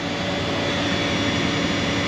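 A hair dryer and two fans run steadily together, blowing air around diesel exhaust by a dual-alternator diesel setup: an even, unbroken whooshing hum at moderate level with no talk.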